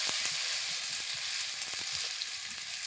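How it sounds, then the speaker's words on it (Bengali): Ginger frying in oil for a soybean and potato vegetarian curry gives a steady, close hiss of sizzling with faint crackles and the occasional light stir, with no voices. "আদাটা একটু ভাজতে হবে তেলে, যাতে তার কাঁচা গন্ধটা বের হয়ে যায়"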